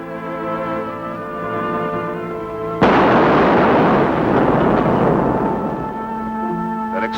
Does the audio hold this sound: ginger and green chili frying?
no